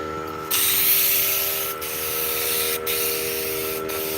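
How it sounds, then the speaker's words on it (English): Kilz primer sprayed from a can onto handles, a close continuous hissing spray interrupted by three brief pauses, no talking. "so underneath will need to be sprayed"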